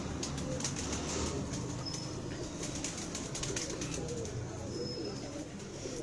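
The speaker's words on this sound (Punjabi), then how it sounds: "ਹੁਣ ਦੇਖੋ ਇਹ ਕਸੂਰੀ ਕਬੂਤਰ ਹੈ" A Kasuri pigeon, a flying breed kept in a loft, coos amid steady wing flapping and rustling from a flock, with a constant dense hum of birds and distant chirps throughout.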